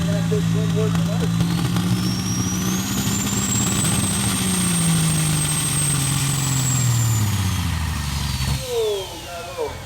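A pro stock semi truck engine at a tractor pull roars loudly and steadily with an uneven flutter, its pitch gliding as it works under load before easing off near the end.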